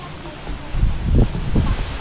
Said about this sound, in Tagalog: Ang lakas ng hangin.